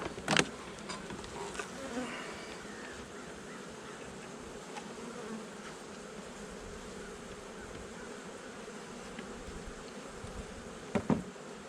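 Honey bees buzzing around a double-deep beehive, a faint continuous drone of scattered bees with a couple of brief louder passes close by, no talk.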